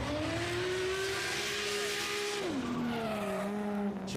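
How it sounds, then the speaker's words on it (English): A drift car skids through a turn at a drifting event, its engine droning loudly with a sustained tire squeal and a sudden pitch drop midway, heard from close by. "Phil Duffy just coming through for some skids"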